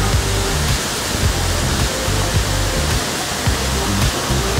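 Mino Falls in Osaka roars as a loud, continuous rush of falling water heard up close, steady and unbroken, with no voices.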